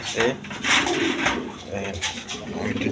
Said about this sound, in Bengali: এখানে এক পেয়ার কবুতর আছে হাই ফ্লাইং গিরিবাস কবুতর